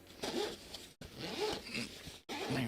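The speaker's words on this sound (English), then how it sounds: "standard fabric style case with a zipper." Zipper on a fabric case pulled open in several quick rasping runs, separated by short pauses, close and fairly quiet.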